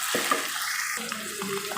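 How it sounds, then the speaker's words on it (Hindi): Chicken frying in a pan for aloo chicken, a brief close sizzle with a spoon scraping and stirring through it. "मज़ीद हम इसको 2 से 3 मिनट जो है चिकन को फ्राई करेंगे।"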